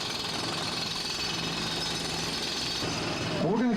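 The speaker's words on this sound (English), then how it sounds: "the 1915 Indian motorcycle." A 1915 Indian motorcycle engine runs with a rapid, rattling, steady chatter, moderately loud, with a rising whine joining near the end.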